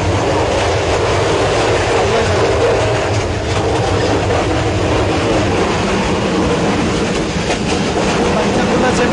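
The Parabat Express passenger train runs in Sylhet, Bangladesh, with a constant loud rumble and rhythmic clatter of wheels over the rails throughout.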